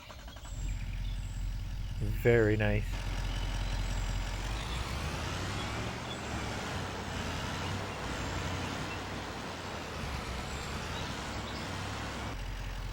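A four-wheel-drive automatic truck in the Farming Simulator 25 video game, its engine droning low and steady throughout, with a short burst of reversing beeps near the start and someone talking briefly.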